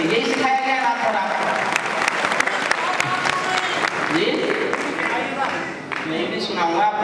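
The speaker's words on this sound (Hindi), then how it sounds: "आज्ञा देने के लिए ताली बजानी पड़ती है" Audience clapping at an all-India Hindi poetry recital (kavi sammelan) in 2009, a steady patter of many hands, with voices and crowd murmur mixed in throughout.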